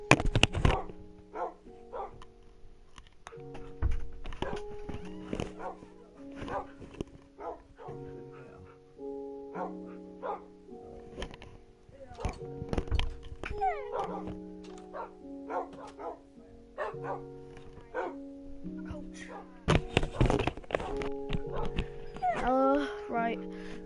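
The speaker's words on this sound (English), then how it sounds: "Here's all our dogs, we've been breeding, pretty big collection." Several dogs in Minecraft bark, yip and whimper in irregular bursts throughout, a bred collection of pets heard fairly close with short pauses between clusters of barks.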